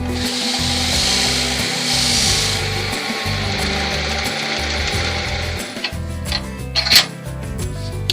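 Sapele wood bowl being buffed on a spinning lathe, a steady rubbing whir with low motor hum throughout, ending in a few sharper scuffs and knocks near the close; no talking.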